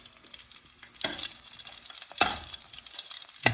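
Green chillies, fenugreek seeds, cumin and dried red chillies splutter in hot oil for a Karnataka sambar tempering, soft crackles broken by two louder bursts of sizzling and stirring, close by with no talk.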